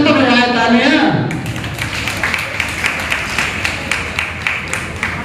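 Audience in a hall clapping for honoured teachers at a Guru Purnima ceremony, a crowd of hands building into steady applause after a voice over a loudspeaker, with some rhythmic clapping audible.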